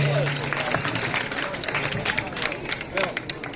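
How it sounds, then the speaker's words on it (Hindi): At a college fresher party for first-year physical education students, an audience claps in a quiet, continuous patter under a murmur of crowd chatter. "कार्यक्रम है हमारा तो आपकी ताली भी चाहिए"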